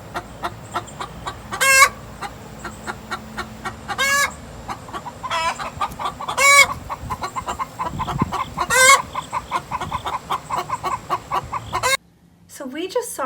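Hens about to lay eggs cluck steadily in a rhythmic series, punctuated by several louder drawn-out squawking calls, nearby and clear, before cutting off abruptly near the end.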